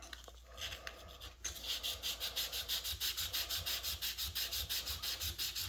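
Sandpaper rubs back and forth against a Rolex Submariner steel watch case in quick, regular strokes, a close, raspy scratching rhythm that starts after a brief pause and repeats steadily.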